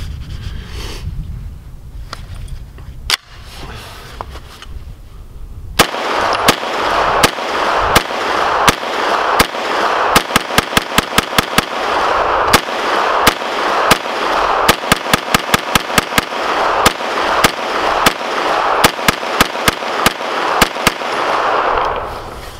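A CZ Scorpion firing rounds from a Magpul magazine outdoors, heard as loud, sharp gunshots in a rapid, uneven string of single shots and quick bursts, close to the microphone and continuing for about seventeen seconds.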